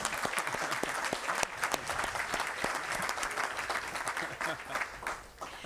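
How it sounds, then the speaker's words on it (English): An audience at a city council candidate forum gives a round of applause, a dense, steady patter of many hands clapping close by that fades slightly toward the end. "so a little round of applause for them."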